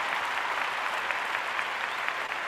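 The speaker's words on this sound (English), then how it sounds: "And the crowd goes wild with the virtual clapping." An audience claps together in steady, dense applause that fills the whole moment, with no cheering or voices above it.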